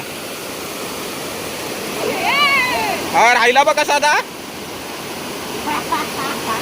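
A small stream with low water rushes steadily as a soft, continuous wash in the open air, while a person talks over it in short phrases.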